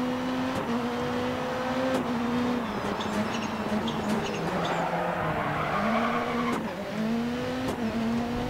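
Ford Focus rally car in the DiRT 4 racing game sliding under the handbrake, a steady engine drone with rising and falling pitch and sustained tire skid squeal, loud and continuous with no talk.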